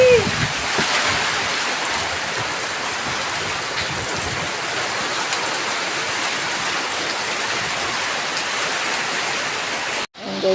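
Heavy typhoon rain pours steadily as a dense, loud hiss of drops hitting surfaces, unbroken through the whole stretch before a brief dropout near the end; a voice is faintly audible at the start.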